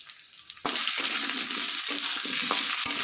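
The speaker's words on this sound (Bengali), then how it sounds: "এখন ডুম করে কেটে রাখা আলুগুলোও আমি এর মধ্যে দিয়ে দিলাম। এটাকেও আমি ভালোভাবে ভেজে নেব।" Diced potatoes hit hot oil in a pan with a sudden loud sizzle that holds as a steady close frying hiss, punctuated by a few scraping stirs.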